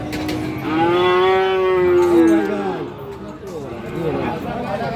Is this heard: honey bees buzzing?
no